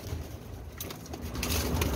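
Pigeons, a red pair of fancy breeding birds in Jhelum, coo in a soft low continuous rumble close by, with light rustling and movement among them.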